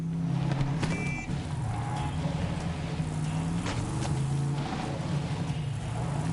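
A car in Borderlands 3 engine hums steadily while reversing beeps chirp into a parking spot, with a low drone continuing throughout.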